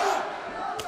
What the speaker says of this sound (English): Very enthusiastic and passionate crowd here tonight.